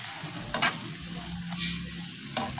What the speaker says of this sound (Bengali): মশলাটাকে ভালো করে কষতে হবে